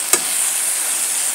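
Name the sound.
stirring eggplant and potato frying in a wok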